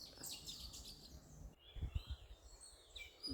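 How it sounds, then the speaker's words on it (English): Several birds chirp and tweet outdoors around a bright yellow bird, high calls overlapping one another at moderate distance, with a brief lull midway before the chirping resumes, and no talk. "There are so many other birds around, so I don't know which bird is making what noise"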